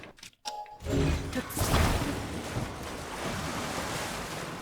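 Ocean waves at sea in Zelda: Tears of the Kingdom wash in steadily after a brief quiet moment, a continuous rushing surf with windy hiss, fairly loud and close with no voices.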